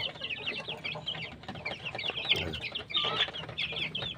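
Chickens rest in their coops after eating, a dense chorus of nearby clucking and soft chirping calls overlapping throughout, with rustling underneath and no voices.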